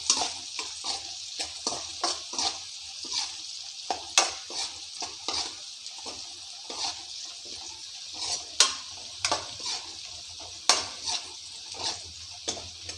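Bottle gourd curry base fries in a pan while a utensil stirs and scrapes through it, giving a steady sizzle broken by irregular clinks and scrapes up close, with no talking.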